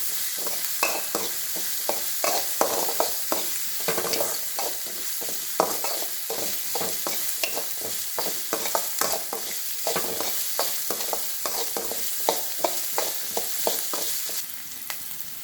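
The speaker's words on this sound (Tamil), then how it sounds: "கொஞ்சமாக மஞ்சள் தூள் நல்லா இதை வதக்கிடணும்" Bitter gourd sautéing with turmeric powder in a pan, a steady sizzle under a rapid, regular run of spatula stirring scrapes, close and moderately loud throughout with no talking.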